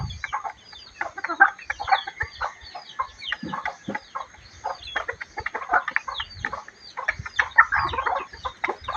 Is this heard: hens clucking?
yes